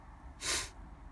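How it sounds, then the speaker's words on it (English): A single short nasal sniff from a person suffering from a cold or hay fever, one breathy burst of about a third of a second against a quiet background. "I am fucking sick of sniffing"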